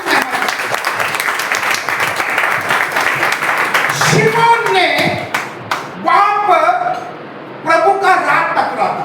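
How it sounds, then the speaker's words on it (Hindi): A church congregation breaks into loud clapping for about four seconds, then a voice keeps talking over scattered claps and the murmur of the room. "प्रभु की महिमा के लिए जोरदार तालियां"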